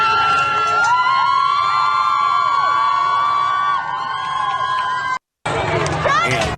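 Large protest crowd in Iran moving toward an IRGC command centre, a dense roar of shouting and chanting voices that stays loud and continuous, with sustained tonal cries rising above the mass.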